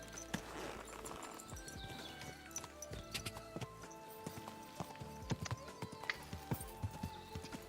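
Horse hooves clip-clop at a walking pace in the video game Kingdom Come Deliverance 2, irregular thuds heard fairly faintly over a soft game backdrop with some low tonal sounds.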